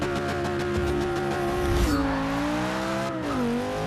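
A 2011 Audi RS5 Coupe launches off the line in the Forza 6 racing game, its engine revving hard and climbing through two quick upshifts, each marked by a drop in pitch before rising again, loud and close.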